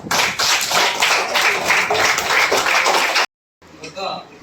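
At a birthday gathering of a smile group, a cluster of people claps hands in quick irregular bursts alongside singing and voices, then a brief silence cuts in before a voice returns.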